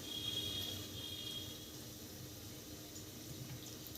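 Soaked poha (flattened rice) being rinsed in water in a strainer, a faint, continuous watery trickle and swish at low level with no talk.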